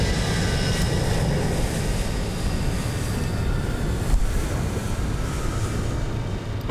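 An auxiliary power unit spools up on an RJ100 airliner in Microsoft Flight Simulator 2024, a loud steady broadband whine and rush that holds unbroken throughout.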